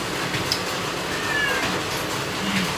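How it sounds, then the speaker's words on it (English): A house cat meows softly indoors, one or two brief mews against a steady low room background. "And here's my kitty cat."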